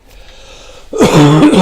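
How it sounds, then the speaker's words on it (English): One harsh, loud cough or throat-clear bursts out close to the microphone after a quiet stretch, followed by a brief rough voiced tail. "I'm doing like Katrin now, coughing all over the place"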